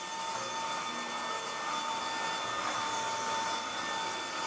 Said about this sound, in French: Il m'aspire le tapis.